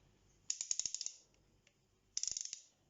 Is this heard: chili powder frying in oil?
no